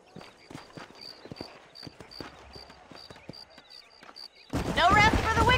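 Horse hooves clip-clop in a galloping rhythm in the Western video game Red Dead Redemption, a quick run of sharp thuds with a faint repeated tone above, before a voice takes over at the end.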